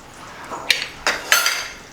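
A spoon scrapes and clinks against a pan several times as fresh cream is stirred into a thick gravy for chapati, with short metallic taps and soft wet stirring.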